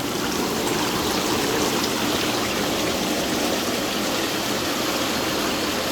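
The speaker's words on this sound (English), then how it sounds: "I'm going to run the bubbles" A SaluSpa Hollywood AirJet inflatable hot tub's air jets running, a loud, steady, dense bubbling roar of churning water mixed with the hum of the blower motor, unbroken throughout.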